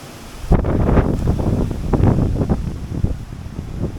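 Storm wind gusts hard into the microphone beside water on a carp fishing trip, rumbling loudly and continuously with surges and rustling throughout.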